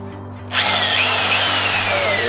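A powerful electric drill bores through the metal of a van during a DIY camper conversion, starting abruptly after a half-second hum and running loud and steady with a slowly shifting whine.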